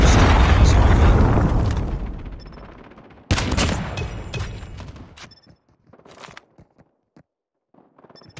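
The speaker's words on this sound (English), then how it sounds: "Friendly Predator missile inbound" A Predator missile slams down in Call of Duty with a loud, rumbling explosion that fades out, followed by a sharp second blast, scattered gunshots and a few faint pops trailing into near silence.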